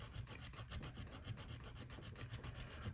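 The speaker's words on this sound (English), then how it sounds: "feed ramp a little bit and try to polish it up a little bit, get it cleaned up" Abrasive rubbing on a pistol feed ramp as it is polished, a quiet, fast back-and-forth scratching stroke repeated steadily, with no voices.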